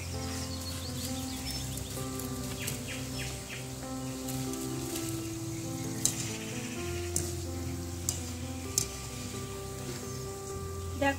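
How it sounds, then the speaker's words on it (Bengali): Gaja sweets made from flour crackle and sizzle steadily in hot oil, a continuous close frying hiss with scattered sharp pops, alone with no talk, while faint tonal sounds linger in the background. "তাই আমি একে একে সব গজা তেলের মধ্যে দিয়ে দেব।"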